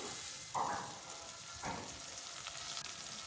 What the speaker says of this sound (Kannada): ಇವಾಗ ರುಬ್ಬಿರೋ ಅಂಥ ಪಾಲಕ್ ಸೊಪ್ಪನ್ನ ಹಾಕ್ಕೊತಾ ಇದ್ದೀನಿ